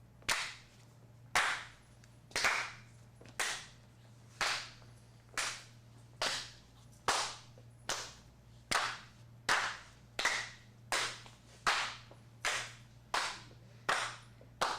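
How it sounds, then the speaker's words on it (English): Group of improv actors clapping one after another around a circle: about fourteen single sharp claps at an even, roughly one-per-second rhythm, each alone and distinct in a quiet room. "We want to clap at the exact same time all the way around."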